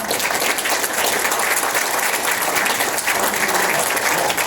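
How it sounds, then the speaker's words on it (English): A conference audience applauds a panel loudly, dense continuous clapping from many hands filling the room without voices. "let's give these guys a round of applause"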